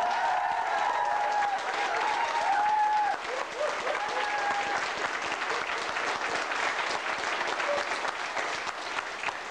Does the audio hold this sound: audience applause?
yes